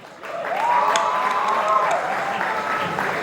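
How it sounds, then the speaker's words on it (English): A crowd applauds during the first evening of the Shishir 2023 festival after a jam session. The loud, dense clapping rises quickly and holds, and a sustained tone runs over it for a moment. "Everyone, a big round of applause."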